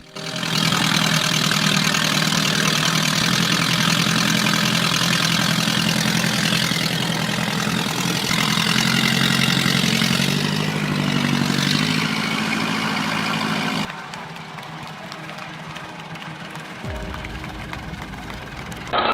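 A tractor engine runs steadily near floodwater, a loud continuous drone with a constant low rumble that drops in level partway through and keeps going without talk.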